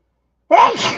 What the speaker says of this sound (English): I'm going to keep sneezing today